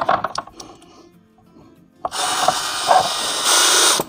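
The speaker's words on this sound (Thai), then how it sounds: "ยิงสกรูตามรูที่เรามาร์คไว้นะครับ" A power drill drives screws into the plastic base of an electric fan under repair. Light tapping and handling noises come first, then the drill whirs loudly and continuously for about two seconds, close by.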